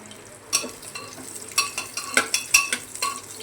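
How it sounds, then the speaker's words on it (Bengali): Carrots are stir-fried with cumin in a pan, giving a soft sizzle broken by a series of sharp scraping and clinking strokes from a utensil against the metal, close and fairly loud. "জিরেটা আমার হয়ে গেছে, আমি দিয়ে দিলাম গাজর কটাকে একটু ফ্রাই করে নেব।"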